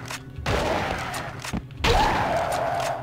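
Repeated gunshots fired at a mummy in The Mummy video game, a loud burst of impacts, a pause, then another sustained volley, with no talk over them.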